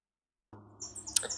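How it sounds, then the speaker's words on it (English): Birds chirp and sing in the background outdoors early in the morning, faint intermittent calls with one brighter chirp partway through, alone without talk. "There are worse sounds that we have to put up with than birds singing in the background."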